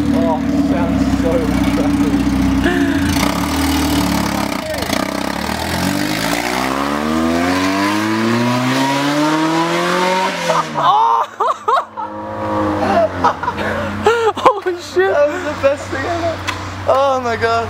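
Mazda Miata engine fitted with new headers, revving loud and close: a long climb in pitch to a peak, then a drop to idle followed by several quick throttle blips, with people talking over it.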